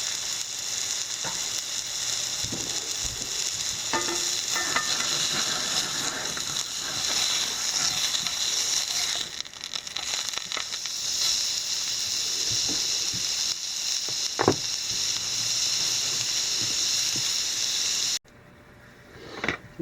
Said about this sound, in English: we'll go ahead and cook this little tiny patty up